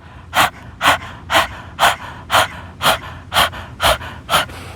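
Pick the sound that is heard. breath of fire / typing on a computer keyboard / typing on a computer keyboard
breath of fire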